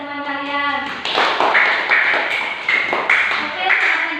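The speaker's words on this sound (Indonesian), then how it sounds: "Sekarang kita berikan aplaus atau tepuk tangan kepada teman kalian." Students in a classroom applauding a classmate, a burst of dense hand clapping starting after a second and continuing steadily, with a teacher's voice and children's voices heard over the clapping.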